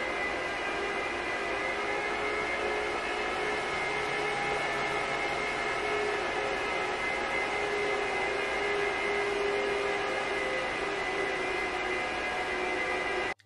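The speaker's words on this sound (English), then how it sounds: "for those of you who have never heard an XServe powered on, get ready, because it's one of the loudest computers I've ever heard" An Apple Xserve server powering on, its fans roaring loud and steady like a jet engine, a continuous whine with tonal hum that holds for many seconds and then cuts off abruptly.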